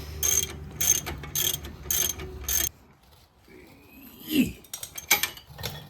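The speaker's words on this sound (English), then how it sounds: "Now we're going to put our nut back on it. Just going to tighten this down." A ratchet tightens the nut on a strut of a 2002 Ford Taurus SES, five quick clicking bursts in a row, followed by quieter metallic handling and clinks nearby.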